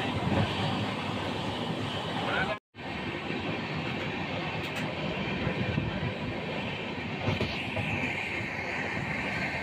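A Sampark Kranti passenger train runs steadily on its rails between Miraj and the first Karnataka station near the Krishna river, a loud continuous rumble and rattle with one brief dropout.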